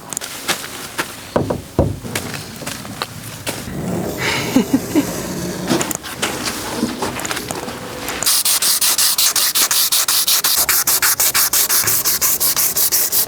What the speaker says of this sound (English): we are going to prep the surface using the 220 grit sandpaper